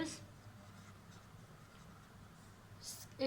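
Pen or marker writing on paper or board during a maths lesson, soft scratchy strokes close by, faint and brief, with a voice speaking at the start and end.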